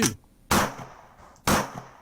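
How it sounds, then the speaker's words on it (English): Three sharp, loud gunshot effects from a sound-effects menu ring out in sequence about a second apart, each a sudden crack followed by a short fading tail, with no other sound. "we got this screen of all these sound effects, and some of them they kind of make sense. Gunshot 1. Okay, right. Gunshot 2."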